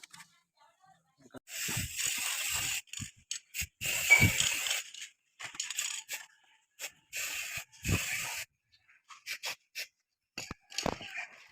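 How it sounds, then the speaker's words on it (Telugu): Spray painting Pulsar motorcycle parts: short, close hissing bursts of aerosol paint come in irregular spurts with quiet gaps between them. "లోపల అయితే కూడా స్ప్రే చేసాను మనం"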